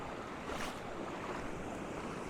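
A waterfall pours over stones into a landscape stream, heard as a steady, dense rush of flowing water that stays even throughout without any voices.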